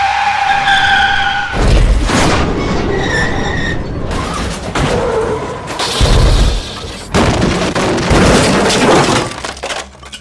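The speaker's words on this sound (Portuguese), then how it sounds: "Batemos em um carro que tinha acabado de entrar na faixa da direita." A car skidding on a road and crashing into another car that had just entered the right lane: tire screech, then heavy impacts with breaking and shattering, loud and close, repeated in several violent bursts.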